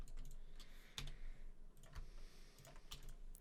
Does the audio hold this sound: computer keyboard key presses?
yes